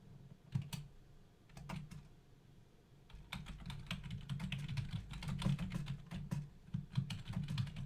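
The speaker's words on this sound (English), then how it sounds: "type your reply here" Keystrokes on a computer keyboard while typing a reply into a lab analysis web portal, a brisk irregular run of light clicks close by, sparse at first then dense and steady, with no voices.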